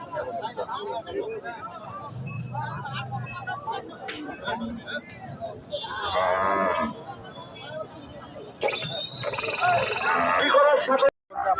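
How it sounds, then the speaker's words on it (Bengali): A Sahiwal cow moos at a busy cattle market, its low call rising over the crowd noise while people talk close by. "ডাকছে গরুটা"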